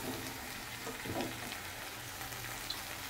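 Onion and garlic frying in a pan with a little salt for a chicken dish: a soft, steady, fairly quiet sizzle with faint crackles, close by and without talk.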